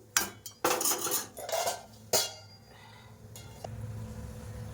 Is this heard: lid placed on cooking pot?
yes